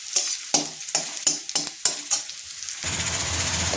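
Onions frying in a pan with panch phoron and turmeric. A spoon scrapes the pan in a run of regular strokes, then a steady, close sizzle takes over.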